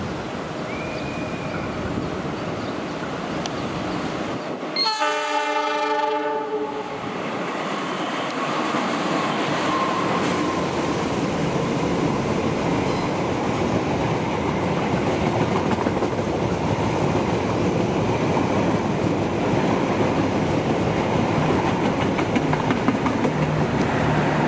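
Passing special service train with a dining car, eight premium coaches and a power car on an Indonesian commuter line: a loud, steady roar of wheels and rushing cars, broken early by a brief pulsing horn-like blast.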